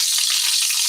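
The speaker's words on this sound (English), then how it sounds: "Sizzle, sizzle." A toy pretend cake gives off a steady, close sizzling hiss like food frying, continuous and even throughout with no voices.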